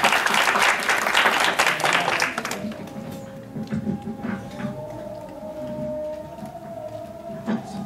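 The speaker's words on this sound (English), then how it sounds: "please give a big applause to Merve Aslan" A classroom group claps loudly for a student presenter for about two seconds, then the applause dies into scattered murmurs and room noise as a steady electronic tone hums underneath.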